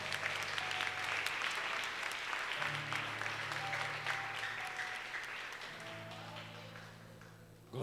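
A church congregation applauds in a long, dense wash of clapping that slowly fades, with faint voices and low sustained tones underneath.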